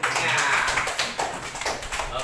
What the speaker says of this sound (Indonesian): Kita tepuk tangan lagi yuk berikutnya.